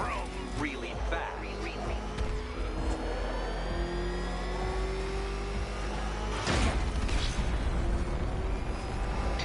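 Engine of the Batmobile in the video game Batman Arkham Knight, revving loudly amid a dense mix of game effects, with a sharp burst and heavier rumble in the second half.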